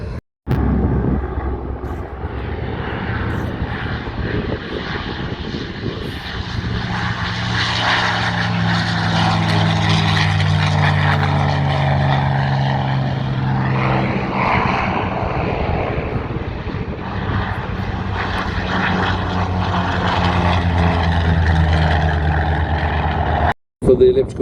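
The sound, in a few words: aircraft flying at Sywell Airshow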